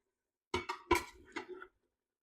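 Chunks of beef tipped back into an Instant Pot for harissa beef stew: a few quick clattering, clinking knocks of meat and utensil against the metal pot, close and fairly quiet, with no voice.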